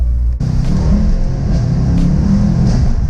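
A Mercedes-AMG E63 S sitting in park is revved, its engine surging into a loud, deep rumbling roar that holds steady with a couple of throttle blips, close and without talk.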